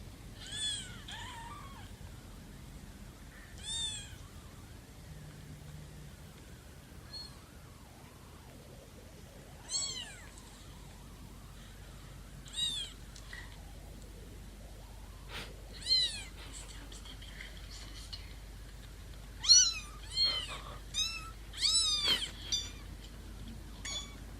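Tiny foster kittens, five babies with their mother, meow in a thin high-pitched chorus of short separate calls that grow more frequent toward the end, heard faintly over a quiet background.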